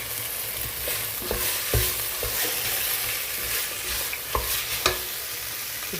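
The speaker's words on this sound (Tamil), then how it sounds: "இப்போ சிக்கன் கொஞ்ச நேரம் நல்லா வதங்கட்டும்." Chicken sautéing in a pan for an egg-and-chicken biryani, with a steady close sizzle and spoon stirs and scrapes every second or so.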